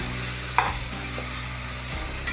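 Vegetables for veg pulao sizzle and fry in a pan, a steady crackling hiss with a couple of sharp stirring clinks, close and fairly quiet.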